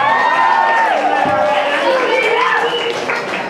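Wedding reception guests cheer and applaud for the singer after her first-dance song, a steady, lively crowd din with excited voices throughout.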